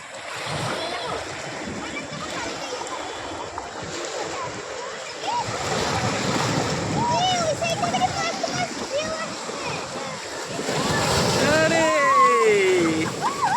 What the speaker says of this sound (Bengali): এবারে বড় বড় বড় ঢেউ আসছে